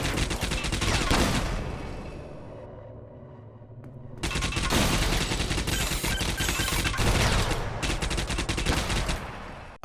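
Player gunfire in the shooter game Angry Bots, rapid sustained bursts of shots that drop out into a quieter lull for a couple of seconds before firing resumes at full volume.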